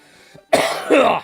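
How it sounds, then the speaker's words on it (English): A single harsh, close cough, rough and throaty like clearing the throat, following a moment of near silence. "the puns made me cough"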